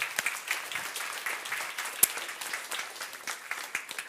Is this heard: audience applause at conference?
yes